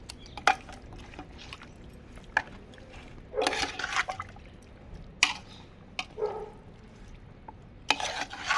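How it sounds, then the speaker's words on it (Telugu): Chicken pieces are stirred and tossed with turmeric, chili powder and salt masala for biryani. Irregular, soft bursts of scraping and wet mixing break a quiet background, with no voices. "మంచిగా మిక్స్ అవ్వాలి, పీసెస్కి మంచిగా మసాలా అనేది యాడ్ అవ్వాలి"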